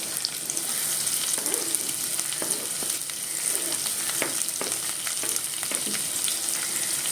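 Onions frying in a pan with golden-brown garlic for a squid masala, a loud, continuous sizzle with occasional crackles and stirring scrapes, close up and without speech.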